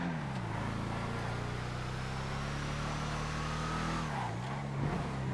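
A Tampa GT3 race car in GTA FiveM holds a loud, steady engine drone at high revs, dipping briefly near the end as it shifts before climbing again, with no talk over it.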